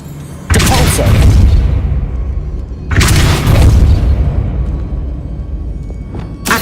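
Depulso spell cast in Hogwarts Legacy, a Harry Potter video game: two loud booming blasts with a rushing, crackling tail, the second following a few seconds after the first, and a faint thump near the end.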